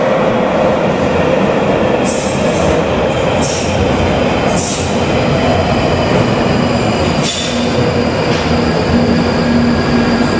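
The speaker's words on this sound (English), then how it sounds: "oh look, here comes my next train" A London Underground train rumbles in loudly and close, wheels squealing and clattering over the rails as it pulls into the station.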